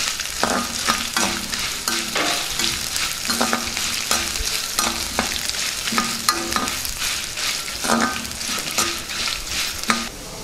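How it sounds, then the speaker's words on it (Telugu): Dried red chillies frying in hot oil for ginger chutney, a steady close sizzle with repeated scraping strokes of a spatula stirring the pan, continuous and without talk. "ఇప్పుడు ఇందులోనే ఎండుమిర్చి వేసేసుకుందాం ఒకసారి బాగా వేయించుకుందాం"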